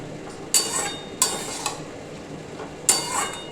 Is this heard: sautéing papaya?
yes